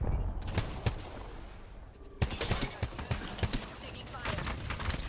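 Apex Legends gunfire crackles in rapid sharp bursts, irregular shots and impacts throughout with game voice lines under them.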